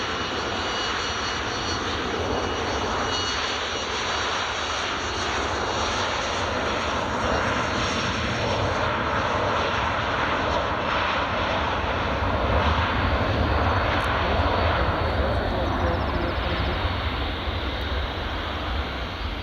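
TUI airliner taxiing at Glasgow Airport, a steady loud jet engine drone with a broad rushing roar that holds constant throughout, heard from nearby outdoors with no talking.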